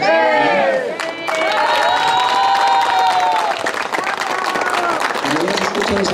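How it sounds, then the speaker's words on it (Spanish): Applause and cheering break out from a crowd at a ribbon-cutting during a 2016 coronation celebration, with clapping, shouts and voices speaking over the noise throughout. "Y ahora se escuchan los aplausos que ya cortaron también el listón."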